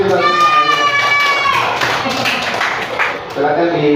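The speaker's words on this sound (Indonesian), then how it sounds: "tepuk tangan dulu untuk kita" Schoolchildren clapping together in a classroom, a burst of scattered claps under children's voices and adult speech, fairly close and moderately loud.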